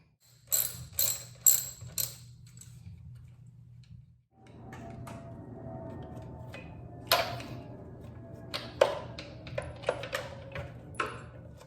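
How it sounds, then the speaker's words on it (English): A ratchet with a 3/8 socket working the main fuse bolt on a Harley-Davidson Sportster: a few sharp clicks, then a low hum with scattered faint ticks and clacks, fairly quiet and close. "Going to unclip that one with a 3/8 socket."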